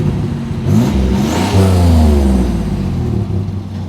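A Pontiac Trans Am GTA Turbo pace car from 1989 sweeps past in a loud flyby, its turbocharged engine rising in pitch as it nears and fading as it moves off, with no talking over it.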